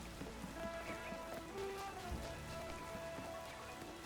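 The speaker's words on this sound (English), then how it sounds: "now we've seen it rain twice today" Rain falls steadily in the video game Pokemon Z-A, a soft, continuous patter of drops on surfaces, fairly quiet, with faint game ambience underneath.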